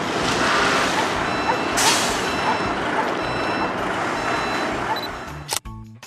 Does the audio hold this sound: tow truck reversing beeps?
yes